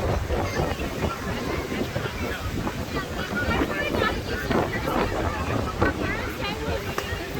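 Wind gusts along a beach street at Hermosa Beach's Pier Avenue, a constant rumble buffeting the microphone, while a person speaks over it.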